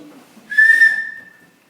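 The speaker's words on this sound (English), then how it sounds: "That is a 3D printed whistle." A 3D printed whistle gives one loud, piercing blast lasting about half a second, rising sharply and then tailing off in a quiet room.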